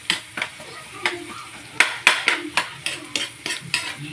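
Spoon stirring garlic, onion and ginger in melted dairy cream in a pan, giving a series of close, sharp scraping and clinking strokes in an irregular rhythm over a faint sizzle.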